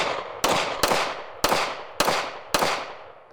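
Five sharp gunshots from a Taurus TX9 9mm pistol crack out in irregular succession, each loud and close with a ringing outdoor tail.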